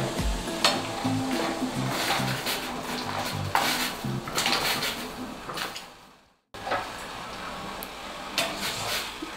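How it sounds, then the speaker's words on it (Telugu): Potato strips for French fries go into a pot of boiling water, with close clattering and splashing over a bubbling rush, a sudden cut to silence, then steady boiling again. "ఇప్పుడు వీటిని బాగా మరుగుతున్న వాటర్లో వేసుకుందాం."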